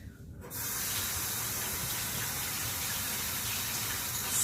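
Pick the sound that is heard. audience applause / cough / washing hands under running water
washing hands under running water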